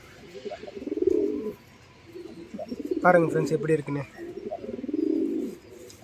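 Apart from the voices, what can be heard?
pigeons cooing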